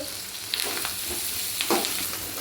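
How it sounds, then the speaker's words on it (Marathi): Onion frying with fresh curry leaves in a pan for a bharad bhaji, a steady close sizzle with occasional scraping stirs and light spatula taps. "हे बघा अशा प्रकारे छान कांदा भाजून घ्यायचा"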